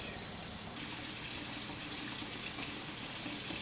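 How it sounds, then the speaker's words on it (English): A tap runs steadily, hot water gushing into a sink to wash an iron skillet, with a constant, even splashing hiss and no pauses. "I got some water, hot water running"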